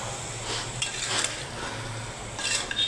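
Food being stirred in a cooking pan, with soft scraping and clinking of a utensil against the pan over a low steady background, close and fairly quiet, no talking.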